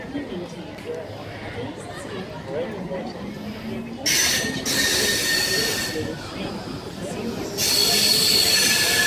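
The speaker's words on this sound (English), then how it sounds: "at Westmead we have S99 now departing platform number 1 for a Leppington service" A Sydney S-set suburban train departs Westmead station platform one, wheels squealing loudly and rising over rumbling rail noise, with people chattering nearby.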